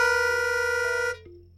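Two clashing, slightly mismatched reedy pitch pipe tones, one a C, sound together, steady and buzzy, then one drops away and the other cuts off.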